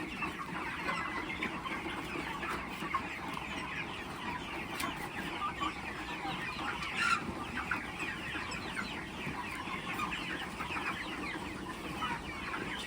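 Chickens clucking steadily throughout on a poultry farm, a dense chorus of many birds in a broiler flock about forty days old, with busy, continuous overlapping calls at moderate loudness.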